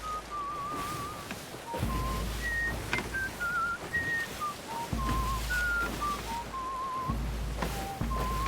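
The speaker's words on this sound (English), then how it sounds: "you're overshadowing my shanty whistling" A person whistles a sea shanty melody in a pirate sailing game, clear wavering notes in a steady tune close by over a constant low rumble of wind and sea ambience, with no talking.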